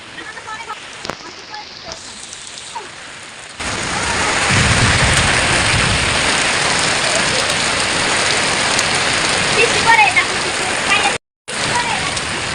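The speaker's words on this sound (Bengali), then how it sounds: "খুব সুন্দর করে বৃষ্টি পড়তে আছে" Steady rainfall pours down outdoors, a broad continuous hiss that swells louder after the first few seconds and runs on with brief gaps, no voices over it.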